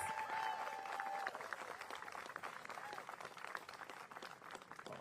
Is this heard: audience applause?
yes